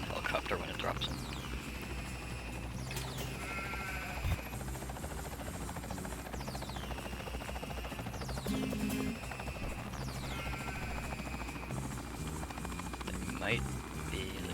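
A helicopter in the video game Ty 2 gives off a constant buzzing rotor drone, with repeated swooping game effects over it and a person talking throughout.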